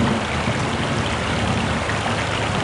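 Rushing water flooding a ship in the video game No One Lives Forever, a steady, loud roar of gushing water that runs unbroken throughout, with no voices.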